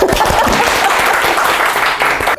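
A lecture audience on pension reform breaks into loud, continuous applause, dense rapid clapping from many hands filling the room throughout.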